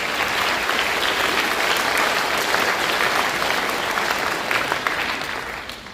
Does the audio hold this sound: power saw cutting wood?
no